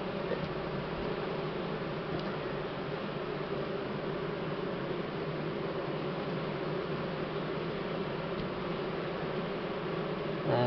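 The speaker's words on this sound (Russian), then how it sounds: "уже пчелки в роевое состояние заходят" Honeybees buzz steadily at the hive as the colony moves toward swarming, a faint, even drone that holds without break and has no voices.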